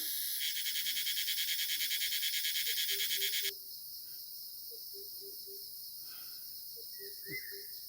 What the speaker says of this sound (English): You may be alone in terms of humans, but not in terms of insect noise.